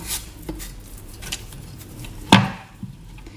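A knife chops cassava on a cutting board with a few scattered chops, one sharp loud hit standing out, against a quiet background.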